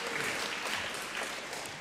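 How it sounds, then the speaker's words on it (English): Audience applause at a debate between Christopher Hitchens and John Haldane, a short stretch of dense, fairly quiet clapping heard at a distance, steady throughout. "Well, you've already earned your applause."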